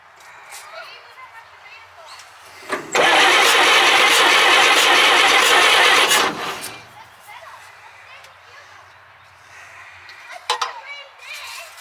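An old Chev Blitz truck engine with a suspected stuck valve cranks loudly for a few seconds with an uneven chuffing rhythm, then stops; voices and faint clanks are heard before and after.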